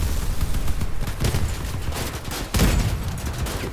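Rapid bursts of tank cannon and weapon fire in the vehicle combat game Crossout, dense overlapping shots with a heavier blast near the middle, loud and continuous.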